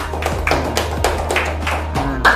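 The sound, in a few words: group applause in classroom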